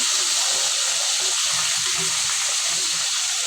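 Fish frying in hot oil in a pan gives a loud, steady, steam-like hiss that holds evenly throughout, close by and with no talking.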